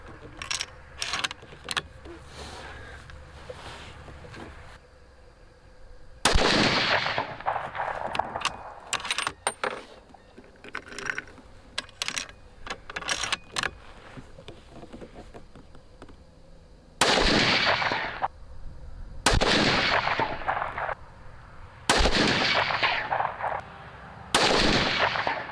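Remington 700 SPS rifle fitted with a muzzle brake fires a series of loud, sharp shots at an outdoor range, a single shot followed later by a closer run of four, with rustling and handling noise in between.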